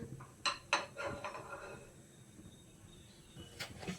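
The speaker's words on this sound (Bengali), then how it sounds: "এখন আমি গ্যাসে তাওয়াটা চাপিয়ে দেব ভেজে নেওয়ার জন্য তাওয়াটা চাপিয়ে দিচ্ছি" A metal tawa griddle is set down on a gas stove, giving two sharp clanks close together near the start, followed by quieter kitchen rustling and one more faint knock near the end.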